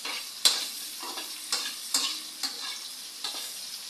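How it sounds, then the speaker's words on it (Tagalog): Vegetables stir-frying in hot oil in a home kitchen, with a spatula striking and scraping the pan in regular close taps over a soft, continuous sizzle. "hinahalo ko yung gulay guys. Kasi parang parang i-stir fry ko pa yung gulay sa sa mantika"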